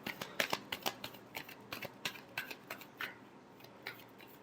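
Tarot cards are shuffled close up, a quiet run of crisp riffling flicks and soft slaps in an uneven rhythm, alone with no talk.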